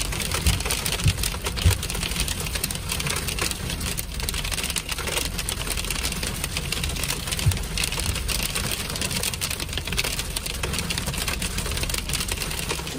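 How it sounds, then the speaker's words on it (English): Hail falls in a dense, continuous patter of hard strikes, steady and even for the whole span, with no voices. "Yes, it's hailing."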